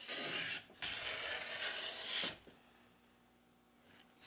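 A WoodRiver V3 hand plane is pushed across a wooden board, taking a shaving in two long, smooth rasping strokes with a short break between them, up close and quiet, followed by near silence.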